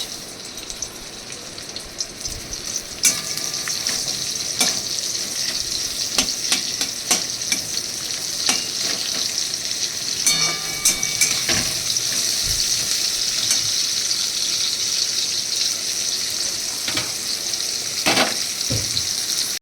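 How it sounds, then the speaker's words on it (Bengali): Two thinly sliced onions fry in a pan for butter paneer, a continuous close sizzle with frequent crackles and spatula clicks and taps throughout. "তারপরে এর মধ্যে দিয়ে দিলাম একদম সরু সরু করে কাটা 2টো পেঁয়াজ"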